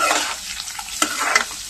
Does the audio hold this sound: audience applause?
no